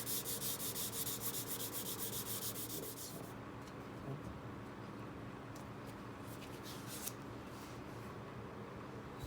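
A sanding block rubs steadily along the primed edges of a speaker cabinet, a continuous close, dry scratching that is brisker and more rhythmic at the start.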